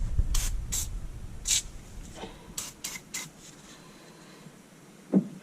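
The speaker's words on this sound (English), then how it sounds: "I'm going to spray penetrating oil into both of those holes and on the end" Penetrating oil sprayed onto an Argo ATV axle and into its holes in several short hissing bursts, close by, with brief pauses and a faint clunk near the end.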